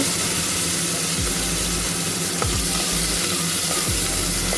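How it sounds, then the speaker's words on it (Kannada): Eggplant cooking in oil in a pan, a loud, steady, dense sizzle that carries on without a break, with a low rumble beneath and a few brief clicks. "ಬದನೆಕಾಯಿ ಈ ಎಣ್ಣೆಯಲ್ಲಿ ಚೆನ್ನಾಗಿ ಬೇಯಬೇಕು"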